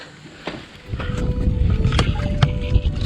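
Strong wind buffets the microphone in low, rumbling gusts that build after the first second, with a few sharp knocks, heard while cycling.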